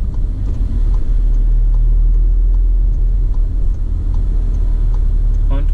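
A car accelerates during a driving lesson, its engine giving a steady, loud low-frequency drone with road rumble throughout.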